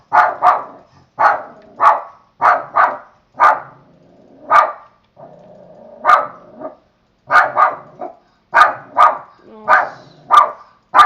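A dog barks loudly and repeatedly in quick bursts, some in pairs, with a short whining stretch in the middle, close by and with no talk over it.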